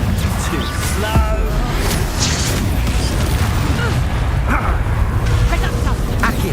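Confringo fire spell explosions in Hogwarts Legacy, booming blasts and crashes in a chaotic fight with a creature growling and voices shouting over the din.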